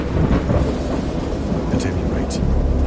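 A thunderstorm sound effect: steady heavy rain under deep rolling thunder that rumbles continuously, with a few sharper crackles cutting through, loud and close.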